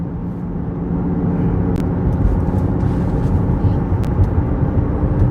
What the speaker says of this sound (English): the HVAC's pulling max RPMs right now